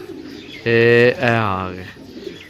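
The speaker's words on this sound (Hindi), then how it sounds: "ओ मेरे कबूतर शुरू हो गए बोलन" Pigeons coo close by in the rain, with one loud, drawn-out coo lasting about a second. The coo wavers in pitch, and a quieter background hiss surrounds it.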